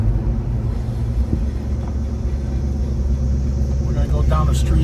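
A 1967 Chevrolet Chevelle 396 convertible idles with a loud, steady, deep V8 rumble that swells slightly toward the end as it starts to pull away, with a voice talking over it.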